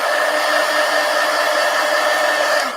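A hair dryer blows on freshly painted wings, giving a steady, loud, unbroken whoosh that fills the whole stretch with no other sounds.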